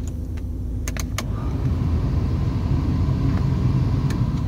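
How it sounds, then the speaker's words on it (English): Steady blowing of the climate control fan inside a 1987 Camaro IROC-Z, a constant broadband rush with a few small clicks near the start, heard close up inside the cabin. "Hey, all the fan speeds blow."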